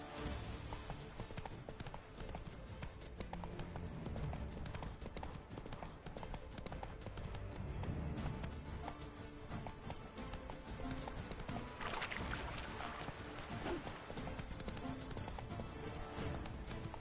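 Horse galloping in The Witcher 3: Blood and Wine, a steady rapid clip-clop of hooves running throughout with a brief whinny, set against game ambience and music, with a voice urging the horse on.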